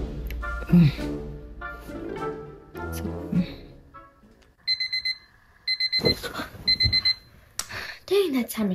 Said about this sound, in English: Dang, that timer scared me.